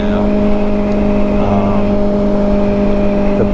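A 2024 Kawasaki Ninja ZX4RR motorcycle engine under way, a loud, steady droning whine with strong even tones and wind rush, holding a constant pitch throughout with no voices.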